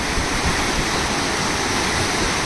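Floodwater released from a dam surges down the Ghod river in a dense, steady roar, loud and close like a waterfall, with no voices.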